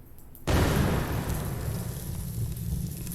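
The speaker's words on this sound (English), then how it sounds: "So you can hear the fire, we heard the explosion" A sudden loud explosion sound effect in an Unreal Engine 5 level, followed by a steady, dense roar of fire that carries on without a break to the end.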